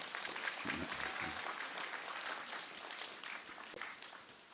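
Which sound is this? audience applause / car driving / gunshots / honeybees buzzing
audience applause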